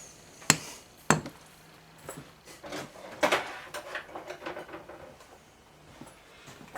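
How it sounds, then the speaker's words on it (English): Screwdriver prying and scraping at the carburetor body of a classic John Deere 130 lawn tractor: two sharp metallic knocks near the start, then a run of smaller close scrapes and taps, with no talk. "Trying to get in between it and the body of the carburetor."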